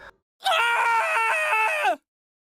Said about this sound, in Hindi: वो जोर से चिल्लाता है